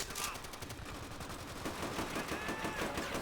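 Rapid gunfire from a shotgun in the video game Call of Duty: World at War: a dense burst of loud, overlapping shots in a noisy battle, with little speech.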